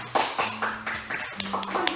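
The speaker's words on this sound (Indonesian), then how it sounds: "Ada tepuk tangan kita Tuhan" A church congregation at an Easter service claps in a loose, uneven rhythm, individual hand claps standing out close by over a sustained low tone from the room.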